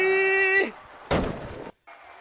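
A bomb explodes in a silly Japanese video game about protecting a president's wig: a tonal electronic tone drops away, then a single sharp, loud blast with a short decaying rumble, followed by a brief quiet and a faint tone.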